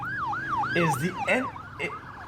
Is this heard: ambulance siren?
yes